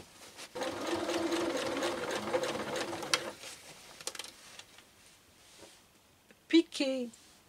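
A sewing machine runs a close-to-the-edge seam around a trouser leg hem, giving a steady, fast, up-close rattle for about three seconds before stopping. A few soft handling clicks follow, then a brief voice near the end.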